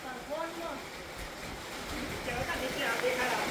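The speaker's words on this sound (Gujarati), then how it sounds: "જો પતરાનો અવાજ આવેલો" Heavy raindrops drum on a tin sheet roof in a steady, dense hiss that swells slightly louder toward the end, with faint voices murmuring underneath.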